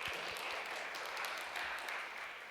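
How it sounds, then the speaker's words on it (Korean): A church congregation applauds in thanks for the worship team and ministry members, a soft, fairly distant wash of steady clapping that holds evenly through the short stretch. "그리고 여러 사역 그 팀원들에게도 감사의 박수를 부탁드리겠습니다"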